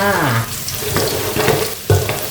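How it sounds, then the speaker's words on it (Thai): Garlic fries in a pan, a steady hissing sizzle with watery crackle that swells and fades, plus a few brief knocks of utensils against the pan. "เจียวกระเทียมให้หอม"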